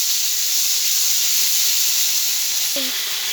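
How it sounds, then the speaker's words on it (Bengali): Cumin, ginger and green chilli paste fries in oil with whole cumin seeds for a doi jhinge aloo dum, giving a steady loud sizzling hiss throughout, with a brief clatter near the end. "মশলাটাকে ভালো করে কষিয়ে নেব।"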